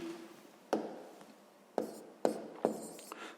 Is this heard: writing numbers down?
yes